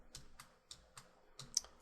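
A computer keyboard's arrow key is tapped about six times in a light, fairly even rhythm. The crisp, close clicks come with no talking, during SketchUp modeling work.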